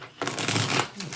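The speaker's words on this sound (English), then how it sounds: "6 shuffles here." Tarot cards shuffled by hand for a paid mini reading, a short burst of crisp riffling that runs steadily for about a second after a brief pause, close and moderately loud with no talk over it.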